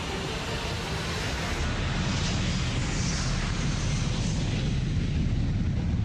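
A Malaysia Airlines airliner on its night takeoff roll, a steady broad jet engine roar that holds loud and constant throughout with no voices.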